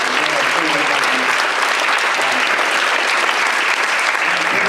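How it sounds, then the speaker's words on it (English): Loud, sustained audience applause after a panel discussion on climate policy, a dense continuous clapping roar held at full level from start to finish. "let's definitely give a huge round of applause for both of our leaders."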